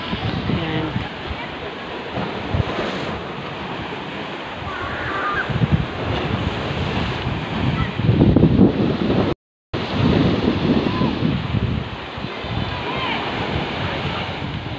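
Ocean waves roll and wash continuously on a beach, loud and close, with wind buffeting the microphone and a brief dropout midway.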